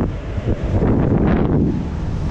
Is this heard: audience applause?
no